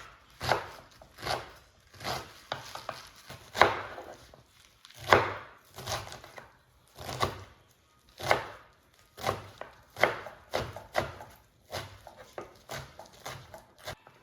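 Mustard greens, spinach and bathua being chopped with a knife on a board for Punjabi sarson da saag: close, irregular rapid chops in uneven bursts with short pauses, no talking.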